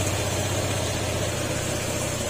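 A Honda PCX160 scooter, a smoky unit under repair, idles steadily up close with a low, even engine hum and faint mechanical vibration, no voices over it.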